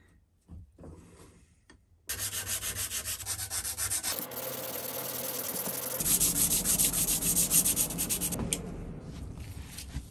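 Hand sanding of parts from a Record No 5 1/2 jack plane: a close, steady rasping rub in fast back-and-forth strokes, growing louder and harsher partway through after a quiet start.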